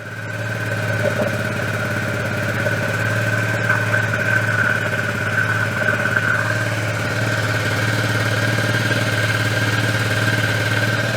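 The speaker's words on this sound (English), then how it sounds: "Idling a little high." A moped engine idles slightly high, steadily and fairly loud, a continuous humming drone with a constant low pulse and faint rattling vibration throughout.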